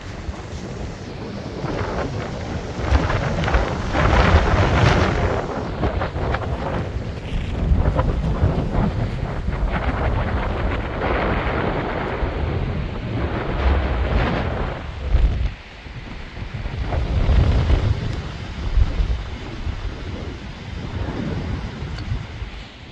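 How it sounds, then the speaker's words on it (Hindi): Strong storm wind roars and gusts continuously outdoors during a sudden change in weather, with broadband buffeting surges and low rumbling; no distinct thunderclap stands out. "ये चेक करिए तूफान"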